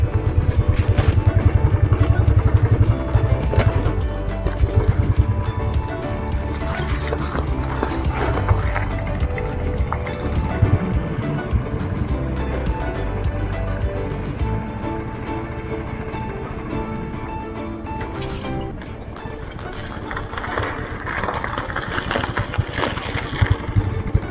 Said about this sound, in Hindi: दोनों तरफ पैर रख के फर्स्ट गियर में बैलेंस बनाते हुए धीरे धीरे हम अपनी बाइक्स को आगे बढ़ा रहे थे।